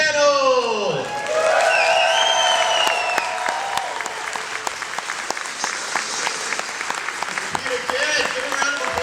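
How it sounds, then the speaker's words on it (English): A convention crowd applauds and cheers for Terminator 30th anniversary panel guests, loud dense clapping with whoops and shouted voices at the start, settling into steady applause. "Give a round of applause!"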